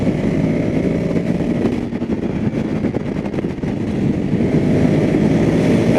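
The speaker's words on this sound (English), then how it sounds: "Even though this motor is a lot smaller than the Triumph up there, it sounds good, it's fun to rev out" Scrambler motorcycle engine, a smaller motor than a Triumph, revving steadily up close, a continuous loud rumble that swells and dips slightly in the middle before rising again, with no voices.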